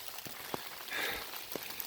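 Rain falling on a forest trail in Big South Fork, Tennessee, a faint steady patter with a few louder individual drops striking nearby surfaces at irregular intervals.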